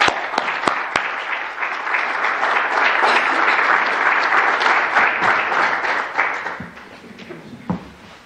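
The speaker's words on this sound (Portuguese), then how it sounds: "Uma salva de palmas para a Francisca." An audience applauds a woman invited on stage at a Portuguese-language show by the group Magalhães, dense clapping swelling and holding strong with a few sharp isolated claps at the start, then thinning and fading toward the end.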